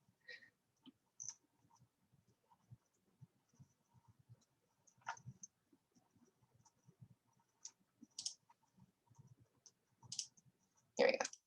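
Computer mouse clicking during spreadsheet work, scattered sharp single clicks spaced irregularly, faint and close amid quiet room sound and soft low murmurs.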